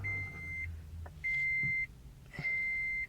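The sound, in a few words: 2010 Toyota Prius start-up beep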